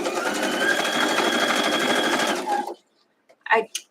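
A sewing machine stitching quilt fabric runs in a fast, steady buzzing rattle for over two seconds, then stops, followed by brief soft handling noises.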